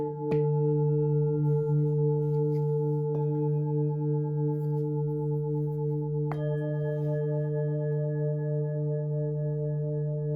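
Singing bowls tuned to D, one an octave deeper than the other, are struck three times and ring out with long, sustained, shimmering tones that layer and overlap without fading away.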